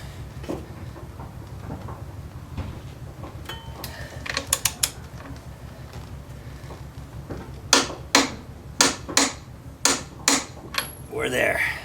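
A torque wrench tightens the axle bolt on a Yamaha Raider motorcycle, giving a few scattered clicks and then a regular run of sharp ratcheting clicks near the end, close up over a low background hum.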